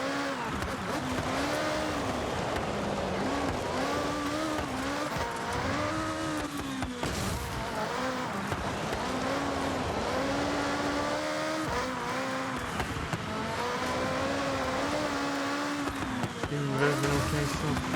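A 1987 Porsche 961 engine revs and wails in an off-road race in the Forza Horizon video game, rising and falling repeatedly with gear changes and bumps, with someone talking over it at times.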